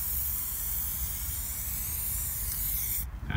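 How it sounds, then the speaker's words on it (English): Armor All foaming protectant sprayed onto car rubber trim: a close, loud, continuous aerosol hiss that runs steadily for about three seconds and then cuts off abruptly, with no talking. "Just it's just a matter of spraying it on"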